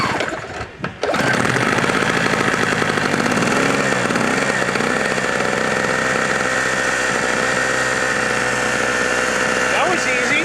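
A Harbor Freight Storm Cat 900-watt two-stroke portable generator pulls over and fires, then settles into a loud, steady buzzing run after a brief stutter at the start, with no one speaking over it.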